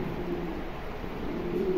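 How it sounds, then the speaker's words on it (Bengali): A pair of Lahori pigeons gives soft, low cooing close by, a faint continuous warble with gentle swells over a quiet background. "খুবই চমৎকার এক জোড়া কবুতর"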